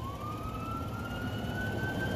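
A Bisbee Fire Department ambulance heading to a call in Old Town sounds its siren, a steady rising wail heard at moderate distance over low traffic rumble, with no talk.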